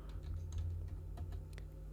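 Faint, quick clicking of computer keyboard keys while code is typed, a run of soft, irregular taps over a low steady hum, with no talking.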